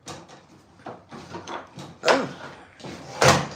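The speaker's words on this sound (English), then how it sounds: "I think I need to shut the door because it's cold out here." A door slides and swings shut outdoors on a cold day, landing as two distinct bumps amid rustling and a brief spoken exclamation.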